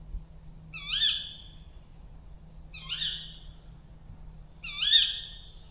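An owl calls in woodland in the morning, giving three evenly spaced hoots about two seconds apart, fairly distant and soft over a low steady hum.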